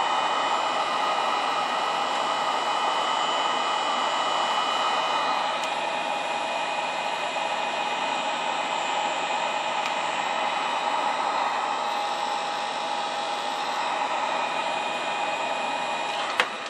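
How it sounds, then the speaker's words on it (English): Heat gun blowing hot air onto metal while restoring a Mercury CTV-220A television, a steady loud hiss with a faint whine that holds constant throughout, with no speech. "So we're going to get this nice and warm."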